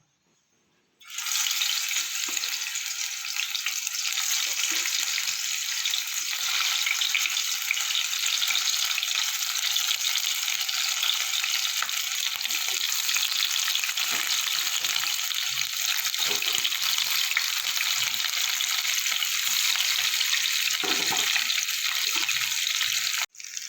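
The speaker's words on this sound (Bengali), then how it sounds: "এবার আমি তেলটা গরম করতে বসিয়ে দিয়েছি। এবার আমি একটা করে ভেজে নেব।" Steamed egg pieces frying in hot oil give a loud, steady sizzle that runs nearly unbroken from start to finish, with no voices.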